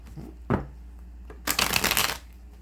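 A card deck is tapped once, then riffle-shuffled in a quick, crisp flurry of fluttering cards lasting under a second.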